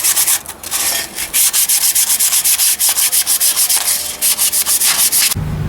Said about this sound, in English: a good piece of coarse sandpaper. You just remove that glazing.